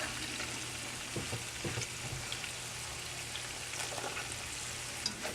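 Short ribs and onions frying over high heat in a pan, giving a constant, fairly quiet hiss of sizzling with a few soft stirring knocks.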